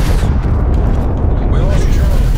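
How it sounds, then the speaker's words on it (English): A cruise missile strike in a video game lands as a loud, deep, rumbling boom that sustains throughout, with voices faintly audible underneath. "Cruise missile in."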